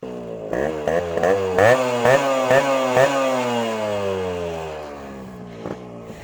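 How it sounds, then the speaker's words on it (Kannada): Yamaha RX100 two-stroke motorcycle engine revving close by, a series of sharp throttle blips rising in pitch, then one long rev that falls away slowly, loud and alone with no talk. "RX ಸೌಂಡ್ ಕೇಳಿದ್ರೆ ಚಿಕ್ಕ ಮಕ್ಕಳಿಂದ ಹಿಡಿದು ದೊಡ್ಡವ್ರವರೆಗೂ ತಿರುಗಿ ನೋಡ್ತಾರೆ"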